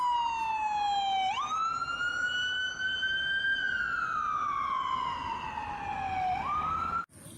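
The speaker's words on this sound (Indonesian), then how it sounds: "Yang ini mobil ambulan." A toy ambulance's electronic siren wails loudly and steadily, its tone sliding up and down in slow sweeps for about seven seconds before cutting off with a click.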